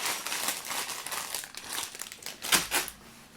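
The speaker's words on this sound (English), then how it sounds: "I don't know if you'll be able to hear me over the crinkling of Legos." Plastic Lego bags crinkle and rustle continuously close to the mic while a NES console set is being built, with louder crunches near the end and no talking.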